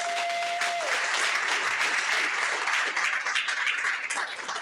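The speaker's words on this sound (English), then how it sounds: "So can we have a round of applause for Susan Lucas?" An audience at a county meeting breaks into sustained applause, a thick, even wash of many hands clapping that holds steady and tapers slightly at the end, with a brief electronic tone at the start.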